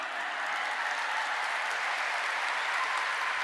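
A crowd claps steadily, a dense wash of applause with no voices.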